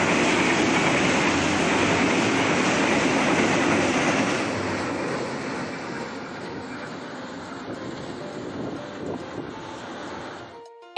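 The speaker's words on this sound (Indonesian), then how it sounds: "ada kereta lewat, kereta lewat gitu" A train rumbles past close by on tracks beside a roadside food stall in Malang, Indonesia, with rhythmic clattering wheels, loud at first and gradually fading as it moves away, ending abruptly.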